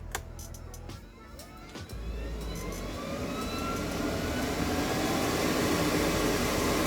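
A few clicks, then the heater blower fan of a 1977 Toyota Celica RA28 starts up, whooshing steadily and building into a loud, constant rushing drone.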